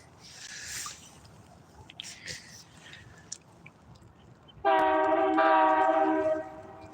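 Train horn blasts loudly and steadily near a fishing spot, sounding for about two seconds after a stretch of quiet outdoor ambience.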